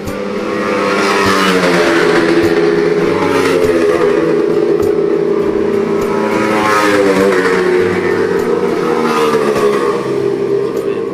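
Loud motor engines roar and rev continuously, rising and falling in pitch as vehicles race past nearby.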